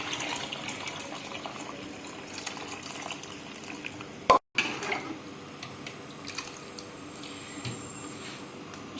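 Water poured into a pot of beef nihari broth, a soft watery splashing and filling sound close by, broken by a brief silent gap midway, with no talking.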